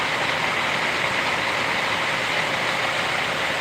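A Scania bus engine idles at a Pekanbaru bus terminal with a steady, continuous low rumble and broad hiss, close and fairly loud, holding constant throughout with no voices.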